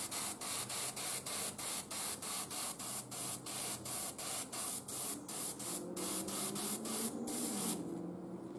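Rapid rhythmic bursts of aerosol spray paint hissing onto a miniature model, a quick regular series of short pulses, close and steady, then a brief pause at the end.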